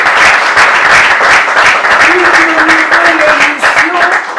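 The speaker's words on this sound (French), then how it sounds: "Si c'est le cas, applaudissez pour vous-même." Student audience at a public question session applauds loudly and continuously, close dense clapping with a voice speaking over it partway through.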